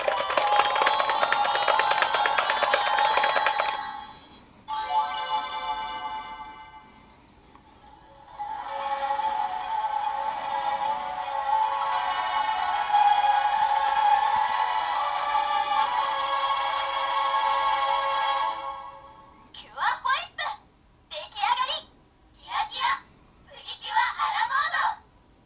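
A KiraKira Precure MazeMaze Henshin Sweets Pact DX electronic toy plays bright synthesized jingles and voice clips, with long tuneful passages followed by short chirpy bursts, close and loud.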